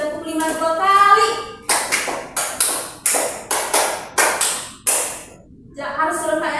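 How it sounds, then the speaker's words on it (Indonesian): Schoolchildren in an elementary classroom clap in unison, two quick rounds of five sharp claps, close and loud, with a teacher's voice before and after. "Oke, tepuk lima 2 kali."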